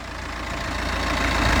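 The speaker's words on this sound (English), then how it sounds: "Has a 2-litre turbo diesel 4-cylinder engine." A 2015 BMW 420d M Sport Convertible's 2-litre turbo diesel four-cylinder idles with a steady low rumble that swells slightly louder toward the end, heard alone with no talking.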